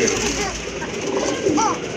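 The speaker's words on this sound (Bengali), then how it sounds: "এই যে দেখেন দুইটা কবুতরই ডাকে" Two pigeons in a pigeon shop coo close by in short throaty rolls, one after another, with a steady low background hum.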